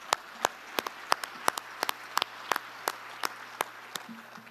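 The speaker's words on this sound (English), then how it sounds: "let's clap on that one" Sparse, scattered hand claps from an audience at a Virginia Beach State of the City address, about a dozen sharp separate claps spread unevenly over a few seconds, fairly faint against a quiet room.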